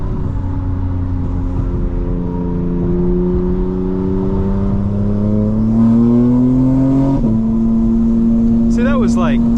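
A car engine pulls under partial throttle with a steady intake hum that rises slowly in pitch, close and loud, then drops briefly as it shifts before climbing again, with faint voices over it.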